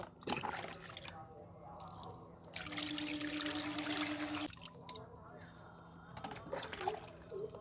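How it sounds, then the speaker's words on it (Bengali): Water pours from a container onto a lotus tuber in a garden planting pot, a steady close trickle and splash lasting several seconds with fainter dribbles around it. "এরকম করে জল দিয়ে দেব।"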